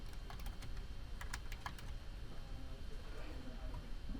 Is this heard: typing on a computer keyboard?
yes